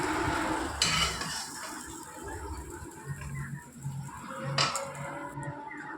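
Eggplant being gently stirred in a pan, with soft scraping of a spatula and light clinks against the pan over a faint sizzle, close and with no talking.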